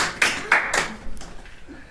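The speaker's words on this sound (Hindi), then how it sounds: "बजाओ तालियां।" A classroom of students claps hands in a few quick bursts of sharp claps that thin out into scattered taps, fairly close, with no talk.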